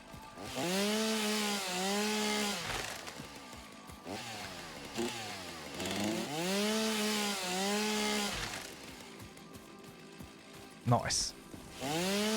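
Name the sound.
chainsaw cutting in the video game Satisfactory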